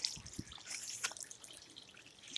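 Water leaks and drips from an overflowing rain barrel after hail and rain, giving faint, close, irregular drips and trickling splashes with no talking.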